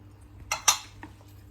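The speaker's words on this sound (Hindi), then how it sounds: "अच्छी तरह मिक्स करते हैं पहले इन मसालों को" Spoon clinks against a bowl as salt, chili and cumin are stirred into pakora batter: two sharp metallic taps close together, then a couple of fainter knocks, alone over quiet background.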